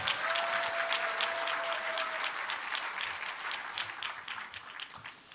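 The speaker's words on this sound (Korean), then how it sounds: "여러분 박수로 환영해 주시기 바랍니다." A church congregation in San Jose claps to welcome a visiting professor before his lecture: a full, steady round of applause that gradually thins and fades near the end.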